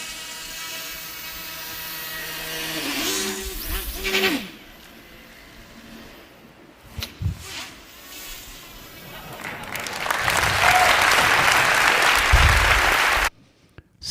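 Applause from a crowd swells into a loud, dense clatter of clapping that holds for several seconds before cutting off abruptly, following a stretch of mixed mechanical and music-like sounds.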